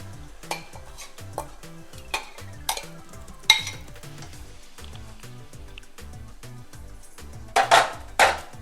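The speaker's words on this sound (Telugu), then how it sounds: "ఆయిల్ హీట్ అయ్యాక మనం ముందుగా కలిపి పెట్టి ఉంచుకున్న మటన్ని వేసుకోవాలి" Marinated mutton going into hot oil in a pan, a steady sizzle under sharp spoon clinks and scrapes, with louder bursts of frying near the end.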